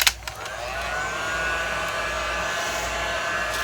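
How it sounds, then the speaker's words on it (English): A heat gun blows steadily over a surface of poured epoxy resin in an art piece, a constant close airy whoosh with a faint whine, beginning with a couple of brief knocks. "keep that heat gun moving."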